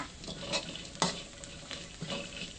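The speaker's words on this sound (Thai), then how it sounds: "ใส่ข่ากับตะไคร้ค่ะ แล้วก็คั่ว ต่อจนทุกอย่างสุกเหลืองหอมดีค่ะ" Shallots, garlic, galangal and lemongrass stir-fried in a pan for Isan chili paste (jaew bong) give a steady sizzle, broken by a few sharp scraping stirs close by.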